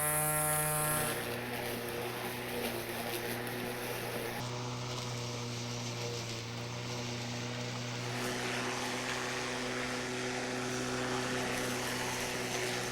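A Neuton battery-powered smart mower cuts through thick, tall grass with a steady, loud motor whine and harmonic hum that runs continuously without pause.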